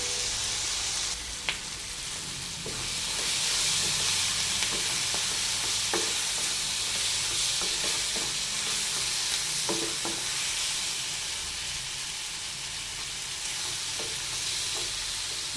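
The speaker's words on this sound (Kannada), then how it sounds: "ಚೆನ್ನಾಗಿ ಫ್ರೈ ಮಾಡ್ಕೊಳ್ಬೇಕು ಈ ಥರ ಒಂದೆರಡು ನಿಮಿಷ ಫ್ರೈ ಮಾಡೋದ್ರಿಂದ ಮಸಾಲ ಚೆನ್ನಾಗಿ ತೊಂಡೆಕಾಯಿ ಜೊತೆ ಕುಕ್ ಆಗುತ್ತೆ" Ivy gourd frying with masala in a pan for a home-style sabji, a steady close sizzle with the scrape and clack of a stirring spoon recurring throughout, no voices.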